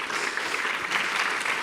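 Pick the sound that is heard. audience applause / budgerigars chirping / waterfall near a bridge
audience applause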